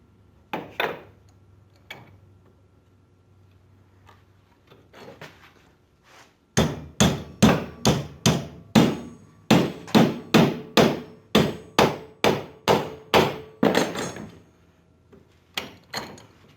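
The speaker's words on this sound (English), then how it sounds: "and get a hammer." Repeated sharp hammer blows bending a metal rafter hook, about sixteen strikes in a steady rhythm after some quiet handling noises, loud and close.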